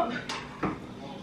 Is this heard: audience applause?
no